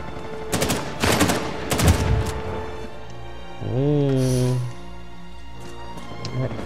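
Gunfire in the Uncharted 4 multiplayer video game, a few loud bursts of rapid shots early on, then a rising electronic tone and sparse clatter while a voice calls out briefly.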